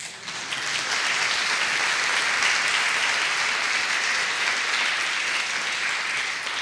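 A crowd claps steadily and loudly for several seconds, a dense wash of applause that holds without pause.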